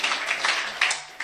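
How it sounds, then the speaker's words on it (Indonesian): A church congregation claps together in a sustained, fairly loud wash of applause lasting the full moment, with a few sharper accents standing out from the crowd. "Tepuk tangan yang meriah buat Tuhan"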